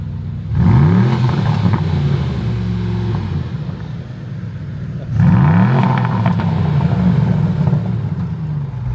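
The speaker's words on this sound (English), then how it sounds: "I think he's going to give it a quick rev out here" An Aston Martin sports car engine revs twice, each a deep, growly surge that rises sharply and then settles into a loud idle rumble.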